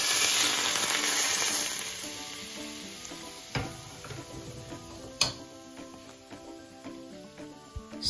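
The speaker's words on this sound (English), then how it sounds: "When the oil is boiling hot, pour it over the ginger." Loud sizzling as boiling-hot oil is poured over ginger, hissing strongly at first and then settling into a softer crackle with a few light clicks and taps.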